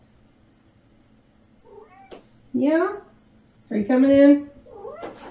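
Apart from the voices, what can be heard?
cat meowing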